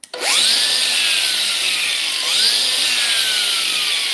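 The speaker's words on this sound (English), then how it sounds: "Makita grinder, this is the entry level grinder, the" A Makita DGA452 cordless angle grinder spins up with a sharp whine, rising quickly to a loud steady drone, dipping briefly and then surging again around the middle, heard close with no talk.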